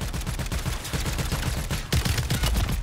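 Rapid bursts of gunfire from an enemy team in Call of Duty Warzone rattle in a dense, repeating rhythm, with heavy low-end thumps sounding close and continuous.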